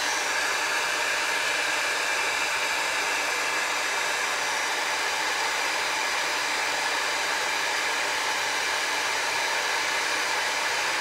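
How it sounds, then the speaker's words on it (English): An embossing heat tool blows continuously while heat embossing a birthday card, a steady close airy hiss with a faint motor whine and no breaks over about eleven seconds, with no talk. "It always takes just a minute for our heat tools to heat up here."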